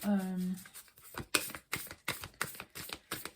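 Cards are shuffled in a quick rhythmic series of soft riffling clicks, close by, after a brief tone at the start.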